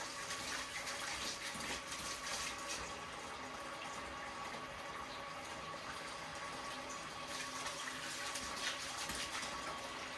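Tap water running steadily while something is rinsed in a kitchen, a faint continuous splashing flow that sounds fairly near, with no talking.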